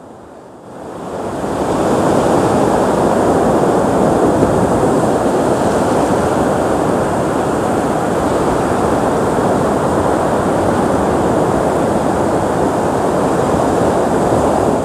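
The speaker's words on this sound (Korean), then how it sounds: "파도 ASMR" Ocean surf at Kkotji beach on Anmyeondo roars steadily and close, a continuous wash of breaking waves with wind noise and no talk.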